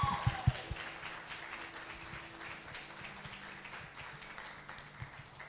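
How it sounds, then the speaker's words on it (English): A church congregation at a Sunday service claps in a soft, steady round of applause, starting with a few sharp claps and settling into a diffuse patter that runs throughout at a moderate, slightly distant level. "Let's give a big round of applause."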